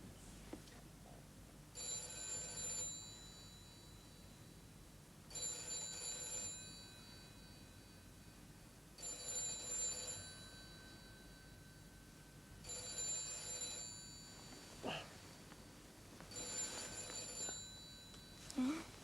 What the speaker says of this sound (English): It's a phone. I'll get it.